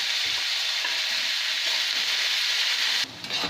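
Potatoes frying in oil in a pan with salt and turmeric, a close, constant crackling sizzle with light stirring, dropping to a quieter hiss near the end.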